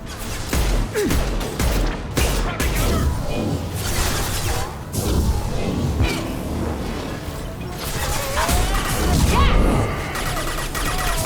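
Mass Effect 2 combat brings continuous gunfire mixed with impacts, crashes and whooshes, loud and busy throughout, with some voices in the mix.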